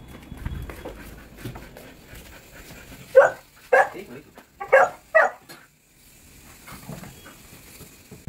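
Maggie, a dog, barks at the gas meter man: four sharp, loud barks in a quick burst close by, with quiet background before and after.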